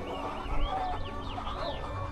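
Flock of hens clucking and squawking loudly, with rising and falling calls overlapping in quick succession, close and busy, with no speech.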